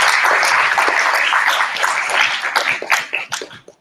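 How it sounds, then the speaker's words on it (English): Applause at a school game night for the parent group who provided pizza, a dense crowd of clapping that is loud and steady at first, then thins into scattered individual claps near the end. "I want to give a round of applause to the parent group and people back there for providing pizza."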